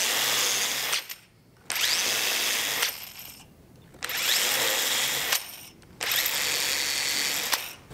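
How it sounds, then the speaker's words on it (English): A power drill boring pilot holes into oak for drawer dividers, heard as four loud, sustained whirring bursts separated by short quiet pauses. "and then pilot drill it, knowing that I'm getting a square joint at the end of it."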